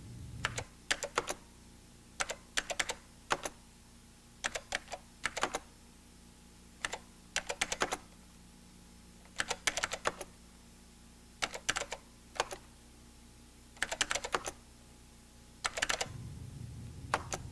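Numbers are typed on a computer keyboard, entering each one into the next cell, in quick bursts of close crisp key clicks separated by brief pauses, with no talking.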